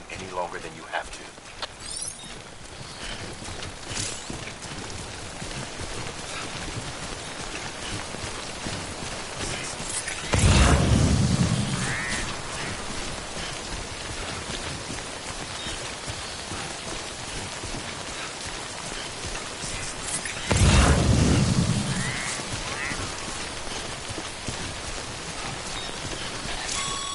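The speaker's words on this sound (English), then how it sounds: "Don't stay out in the rain any longer than you have to." Steady rainfall hisses throughout a scene in the video game Death Stranding, with two heavier low thumping surges midway, while a voice talks over the rain.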